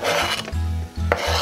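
Food for a taco bar is being cut up, with close, rough rasping and scraping strokes against a board or bowl in quick, uneven bursts.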